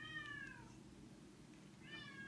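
A pet cat meows twice, a quiet drawn-out call at the start and another shorter one near the end, over faint room hum.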